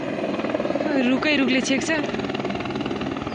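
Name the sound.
helicopter landing nearby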